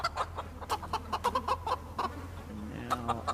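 Chickens in the video game Project Zomboid, on a farm, clucking repeatedly in quick, uneven bursts, fairly close and clear over a low steady hum.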